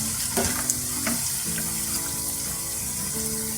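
Onion pakoras frying in hot oil, a continuous loud sizzle and bubbling with a few clinks and scrapes from a utensil, no voices.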